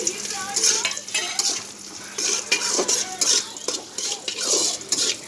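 Potatoes tipped into a pan of turmeric and salt and stirred: scraping and clinking of a utensil against the pan, with a light sizzle running under it throughout.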